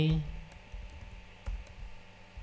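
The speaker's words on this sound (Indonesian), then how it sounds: "tekan shift pada keyboard ya" A few scattered computer keyboard key presses click softly during a software design tutorial, set against a quiet, murmuring background.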